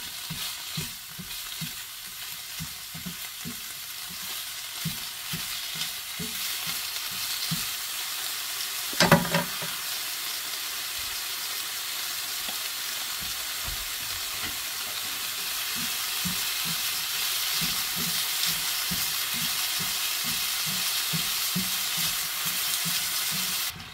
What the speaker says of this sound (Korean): 그리고 그릇에 덜어놓은 다음에 고기를 볶아주세요